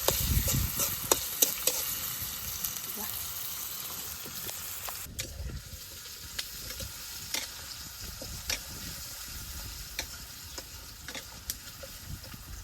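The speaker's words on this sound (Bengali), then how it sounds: "কাঁচামরিচ, ছেঁচা রাখা রসুন, সব কিছু ভালোভাবে ভেজে নিই।" Green chillies, chopped onion and crushed garlic frying in a pan, a continuous close sizzle with repeated spatula scrapes and clinks, steady throughout with no talking.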